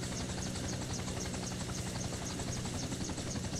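Helicopter engines spooling up in a flight sim, an Airwolf chopper model, giving a steady, dense turbine whine with rhythmic rotor pulsing, continuous and fairly loud.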